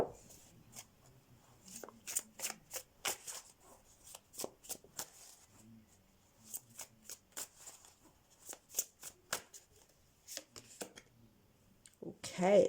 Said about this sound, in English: Let me pull some message cards for you.